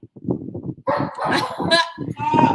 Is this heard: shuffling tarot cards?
no